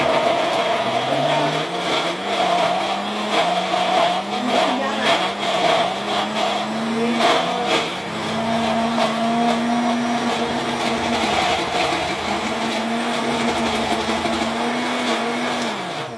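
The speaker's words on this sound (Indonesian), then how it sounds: "Sekarang kita giling dengan blender." A kitchen blender grinding shallots, garlic and candlenuts into a white spice paste, a loud whirring motor whose pitch rises and falls repeatedly as the blades catch and spin freely, running continuously.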